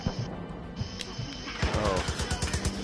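Rapid gunshots from the video game Far Cry 5 crack out in a quick burst near the end, following scattered hits, with the game's background noise underneath and a voice talking over it.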